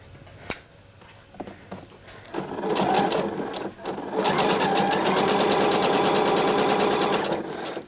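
A sewing machine stitches a skirt seam, starting with a few short bursts and then running steadily at close range with a dense, continuous mechanical rattle.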